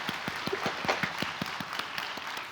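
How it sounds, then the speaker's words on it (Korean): A church congregation at a New Year's Eve service claps in a steady, fairly quick rhythm. The hand claps come at a moderate level and stay even throughout, with no talking over them. "박수로 격려하고 축복하십시오."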